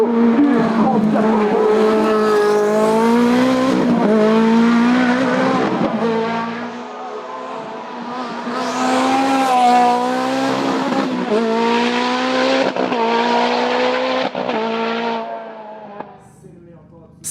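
A Ferrari 430 GTO race car screams up a hill climb course at a French mountain championship final, its engine note rising and falling through gear changes, loud and close with a brief dip midway.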